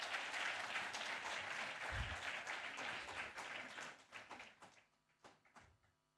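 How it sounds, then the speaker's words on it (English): An audience applauds a keynote speaker at a conference, with dense, steady clapping from many hands that thins into a few scattered claps and fades out near the end. "May I request Shri Kiran Vyas ji to please come forward with a huge round of applause"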